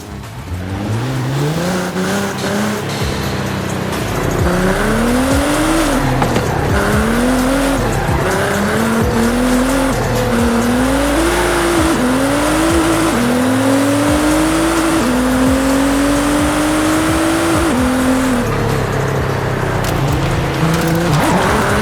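Nissan GT-R R35 sports car racing hard, its engine loud and near, revving up and down through repeated gear changes while the tires squeal, continuous with no talk.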